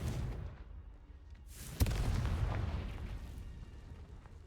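Confringo fire spell explosion in the video game Hogwarts Legacy, a single sharp boom that rolls into a rumbling burst over steady low game background noise.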